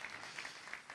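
A church congregation claps during a sermon, a brief, faint wash of steady applause.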